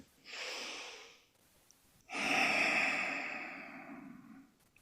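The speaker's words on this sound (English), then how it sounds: "And now I take a breath." A person draws a slow breath in through the nose, pauses briefly, then lets out a longer, steady exhale; close, soft and alone, with no talking.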